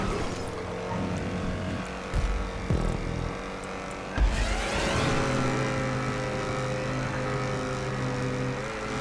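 Car racing in GTA 5, with a sustained engine drone that shifts pitch as it accelerates, a couple of thumps and a sharp revving surge midway, then continued steady engine tone.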